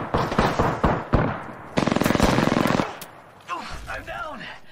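Rapid automatic gunfire in the video game Apex Legends crackles in close bursts, including a sustained volley, while a player talks over the action.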